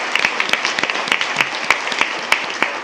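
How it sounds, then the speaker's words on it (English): Applause at a school board meeting honoring a high school wrestling team: a modest room of people clapping with distinct individual claps, steady and fairly close, without speech over it. "Please join me in a round of applause for Palm Desert High School Wrestling."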